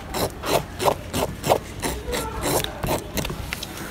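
A blade scrapes the small scales off a grouper fish in quick, rhythmic strokes, giving close, rasping scrapes about two or three times a second.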